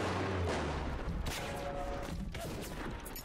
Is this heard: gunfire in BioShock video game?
yes